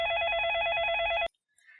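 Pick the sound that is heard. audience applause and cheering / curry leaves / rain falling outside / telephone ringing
telephone ringing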